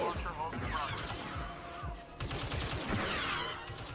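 Blaster and gunfire crackle during a firefight in the video game Empire at War, with dense, rapid bursts and thuds of moderate loudness layered over other battle sounds.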